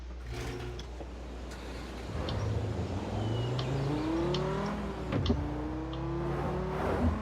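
A car engine in the racing game Test Drive Unlimited 2 revs and climbs through rising pitches as the car pulls away, steady and close, with no talk.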